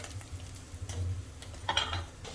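Pieces of taro root (arbi) deep fry in hot oil, giving a continuous soft sizzle and crackle with occasional louder spattering bursts, close and fairly quiet with no talking.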